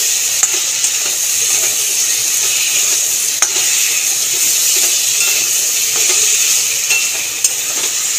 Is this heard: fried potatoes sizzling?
yes